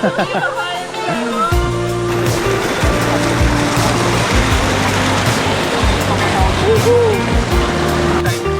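Tarias Falls in San Jose, Antipolo City: a steady, loud wash of falling and rushing water fills the whole clip, with people talking faintly over it.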